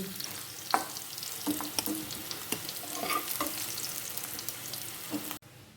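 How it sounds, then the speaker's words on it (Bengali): Potato pieces frying in oil, seasoned with salt and turmeric, give a steady close sizzle with periodic scrapes and taps of a spatula as they are turned; no one speaks. "আলুগুলো একটু লাল করে এইভাবে ভেজে তুলে নিচ্ছি"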